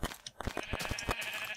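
Sheep bleats from the video game Minecraft, a few short wavering calls in quick succession, close and clear with no speech.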